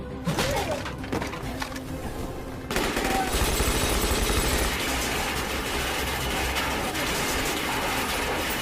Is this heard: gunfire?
yes